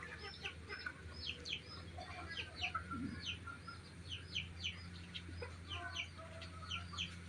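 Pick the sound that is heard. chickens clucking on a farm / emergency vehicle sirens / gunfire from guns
chickens clucking on a farm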